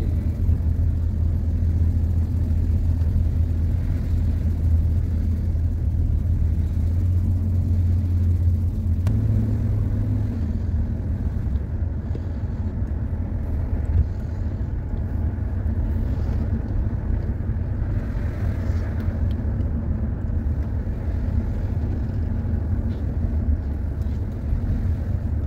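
Car driving on a village road: a steady, continuous low engine rumble with wind and road noise throughout, close and with no talking.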